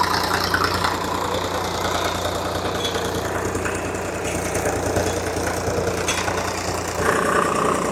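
A tractor engine runs steadily while ploughing a field, pulling a nine-tine plough; a continuous, fairly close mid-to-low idling drone with a slight knock, unbroken throughout, with no voices.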